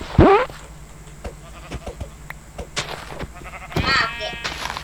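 Sheep in the Minecraft video game bleat in a sharp wavering cry at the start and again near the end, with someone talking over the game sounds between the bleats.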